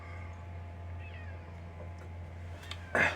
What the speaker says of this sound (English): the neighborhood cat